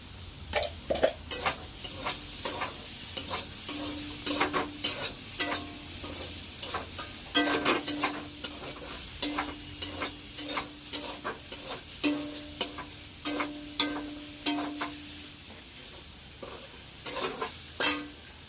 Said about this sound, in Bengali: বেগুনটি ভাজা ভাজা মতন হয়ে গেল